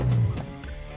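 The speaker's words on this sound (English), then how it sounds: "That sound was the ABS pump activating to apply the brakes." The ABS pump on a Volvo XC60 kicks in during automatic collision-avoidance braking, giving a short, low mechanical buzz that fades after a fraction of a second.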